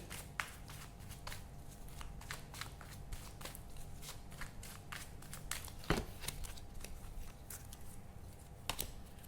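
Tarot cards shuffled by hand in a quiet room: a long run of soft, rapid card slaps and riffles, close and steady, with a few sharper snaps mixed in and no voice.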